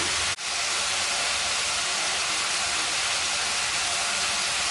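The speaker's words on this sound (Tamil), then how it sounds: "இது ஒரு ஒரு நிமிஷம் போல் நல்லா வதங்கட்டும்" Prawn curry ingredients sizzle in a pan for a Chettinad prawn curry, making a steady, loud broadband hiss that runs unbroken throughout, with a brief dip near the start.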